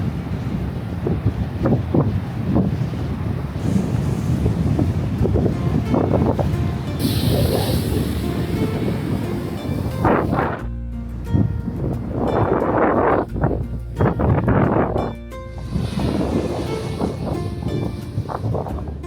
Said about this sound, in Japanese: 向こう側もすごいもんね。 ほら、 高い波が。